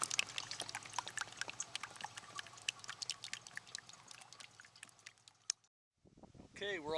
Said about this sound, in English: put our funnel in there, and we'll pour our 4 gallons